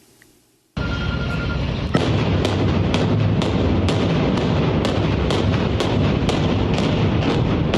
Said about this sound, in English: Thursday's explosions leveled the home